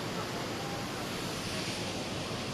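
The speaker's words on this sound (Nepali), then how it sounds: "हेर्नु न, यहाँ खोला यस्तो मजाले बोकिरहेको छ" A river in Nuwakot rushes strongly past, a loud, unbroken roar of flowing water filling the whole moment with no voices.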